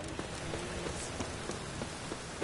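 Steady rain pours in The Witcher video game, a dense close patter of drops on surfaces with faint scattered splashes, heard alone without voices.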